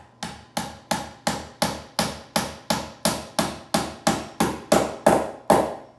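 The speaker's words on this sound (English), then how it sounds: "I'm going to hammer in the nails" Hammer blows driving nails into wood for a small homemade mini hockey game, about fourteen sharp, evenly spaced strikes in a steady rhythm, close and loud with no talking.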